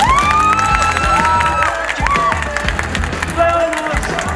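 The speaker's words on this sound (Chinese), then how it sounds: "我们是不是给他们一个热烈掌声" An audience at a children's Brazilian jiu-jitsu championship cheers and applauds, lively crowd noise with clapping and shouting children under a host's amplified talk.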